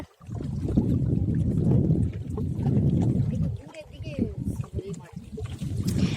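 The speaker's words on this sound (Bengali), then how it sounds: "আমাদের বোট স্পিডে এগাচ্ছে এখন" A small boat pushes through floodwater with a low rumbling wash and splashing, the water noise rising and falling unevenly, while people talk over it.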